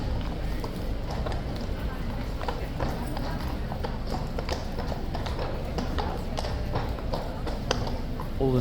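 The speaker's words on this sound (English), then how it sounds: "Oh, the horse is not in a good mood." A horse of the King's guard clops its hooves on pavement during a morning handover in a steady, busy rhythm, with voices talking over the hoofbeats and a loud crowd noise throughout.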